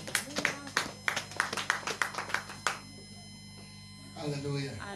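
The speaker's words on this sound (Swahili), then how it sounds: "Pigia Yesu makofi." A church audience claps for Jesus in a quick, regular run of about a dozen claps, then stops as a voice begins speaking.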